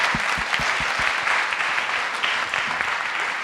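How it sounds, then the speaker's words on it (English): Audience applause at a startup pitching competition, a dense steady wash of many hands clapping that fills the whole stretch, loud and sustained without letting up. "So big round of applause for all of the startups here."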